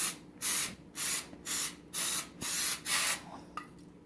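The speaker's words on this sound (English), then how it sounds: "now we got some spray oil, and we're going to put it in the pan" Six short, even bursts of cooking oil spray hiss into a pan in a steady rhythm, close by, followed by a faint clink.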